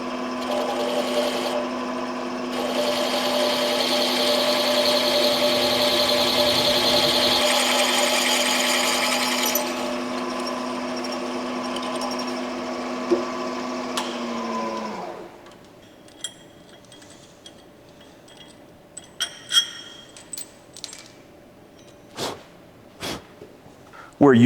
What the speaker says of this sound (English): we'll put our 13/32 drill bit in